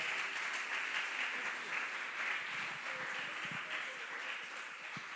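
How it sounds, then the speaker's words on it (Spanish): A church congregation applauds together in a sustained, even wash of clapping that holds steady from start to finish, moderately distant and unbroken by speech. "Fuerte el aplauso para el Señor"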